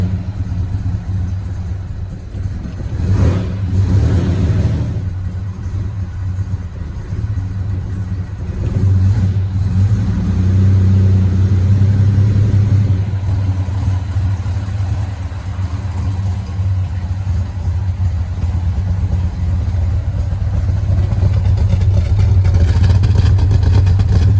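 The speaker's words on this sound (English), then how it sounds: "Keep feathered on the throttle to keep it running" A 265 Hemi engine runs steadily with the throttle feathered, a loud, continuous low rumble that swells slightly at times, heard close with no talking.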